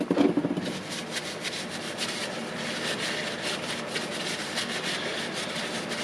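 Someone cleans a Milwaukee M18 die grinder with brake cleaner, producing a short opening clatter followed by quiet, repeated scrubbing and rubbing strokes close by, with no speech.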